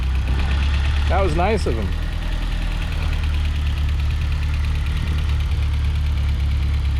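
A 1990 Fiat Uno Turbo Phase II idles after starting, its engine giving a steady low rumble right through the clip while a voice speaks briefly over it near the start.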